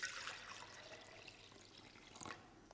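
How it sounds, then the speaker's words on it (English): Water is tipped from a container into a medium-sized laboratory beaker, a faint trickling splash that starts strong, thins out, then briefly surges again near the end, heard alone and close. "I'm going to just tip some water into this medium-sized beaker."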